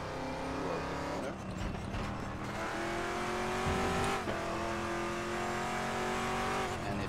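A race car in the RaceRoom racing game drives through a corner as the braking assist slows it automatically, its engine droning steadily with shifting pitch and a brief squeal of tires, loud and constant.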